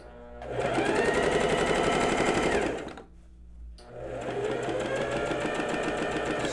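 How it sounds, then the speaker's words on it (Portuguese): A sewing machine stitches a basic blouse seam, whirring steadily near and loud for about two seconds, pausing briefly, then running again at an even pace. "A dica é sempre começar e terminar todas as suas costuras com retrocesso"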